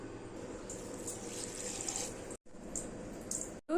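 Running water splashes steadily into a sink or bowl as basmati rice is washed, with a brief gap and light swishing as the rice is rinsed.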